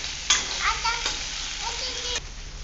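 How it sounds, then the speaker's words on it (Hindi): Potatoes, onion and green chillies fry in a pan with a moderate, close sizzle, marked by a few clattering knocks as ingredients go in and get stirred; no speech. "आलू डाल देंगे, प्याज और हरी मिर्ची भी डाल दी है इसी में।"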